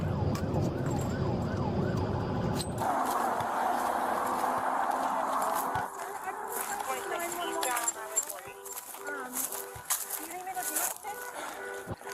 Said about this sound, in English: She has lights and sirens on, running opposite side of traffic